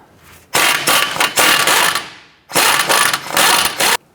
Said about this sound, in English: Using an 18mm deep socket, we're going to go ahead and loosen our tie rod and nut.